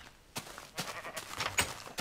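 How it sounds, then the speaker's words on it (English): Sheep in a modded Minecraft pen give several short, quiet bleats in an irregular rhythm, with soft shuffling in between. "Feed these sheep so they can go get busy."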